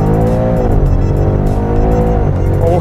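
A tuned 950 hp Audi RS6 accelerating hard from second gear on the road, with a loud continuous engine roar rising in pitch through the revs and a brief gear-change dip, heard from inside the car with no talk.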